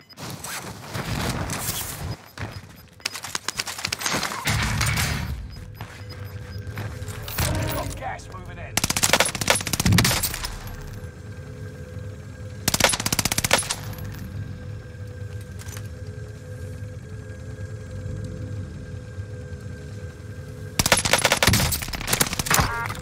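A UGM 8 light machine gun in Warzone fires repeated loud, close automatic bursts, separated by short gaps, against a steady game background hum.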